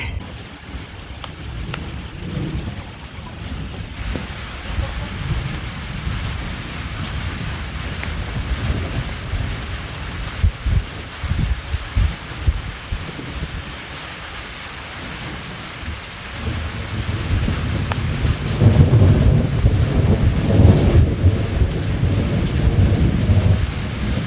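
Outdoor thunderstorm with heavy rain: a dense, loud rain roar throughout, low thunder rumbles building and swelling strongly toward the end, with a few sharper knocks in the middle, no voices.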